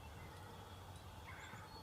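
A wild turkey gobbles faintly in the distance over a steady outdoor hiss in a central Wisconsin field in spring, with no voices nearby.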